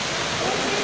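Water pours and rushes continuously at a restaurant where the tables sit in the water, a steady close hiss with no pauses.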